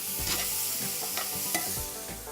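Vegetables lightly sautéing in a pan, a steady close sizzle broken by a few scraping stirs of a utensil, with no talking.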